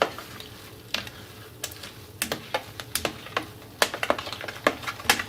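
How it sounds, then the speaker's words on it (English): Sauce being stirred into eggs in a bowl, heard as a run of quick, irregular clicks and scrapes of a utensil against the dish, fairly close and moderately loud, with no talking. "we are going to add a large amount of the sauce to the eggs. We're gonna give that a bit of a stir."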